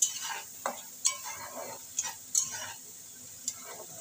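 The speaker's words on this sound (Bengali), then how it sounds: "মশলাটাকে এবার ভালো করে কষিয়ে নেব যতক্ষণ না পর্যন্ত মশলার থেকে কাঁচা গন্ধ" Masala spice paste with tomato pieces fries in a pan under a soft, steady sizzle, punctuated by several sharp scrapes and clicks of a spoon stirring against the pan.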